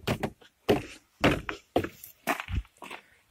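An interior door panel on an Audi A5 gets hooked over the top of the door and seated down, making a series of close, dull thunks and knocks in quick bursts with short gaps between.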